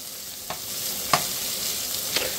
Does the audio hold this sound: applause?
no